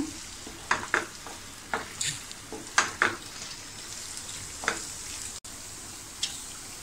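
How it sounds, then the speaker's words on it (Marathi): Boiled fresh peas sautéed in a pan of mushroom masala: a steady sizzle runs throughout, broken by a series of sharp stirring scrapes at irregular intervals. "ते सुद्धा छान परतून घेऊया."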